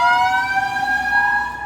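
An ambulance siren wails steadily in a loud, sustained tone as the vehicle passes on a street in Japan.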